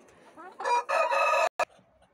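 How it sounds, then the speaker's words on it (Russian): A rooster near a farmyard chicken coop crows loudly once in a rising, drawn-out call, followed by a sharp knock and quieter clucking. "петухи начали мои один за другим петь песни"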